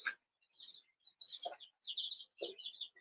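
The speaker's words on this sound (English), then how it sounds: "We got birdies. We have birds." Newly arrived pet birds chirp and tweet indoors in short bursts of bright high-pitched calls, close by and fairly faint, with no talking over them.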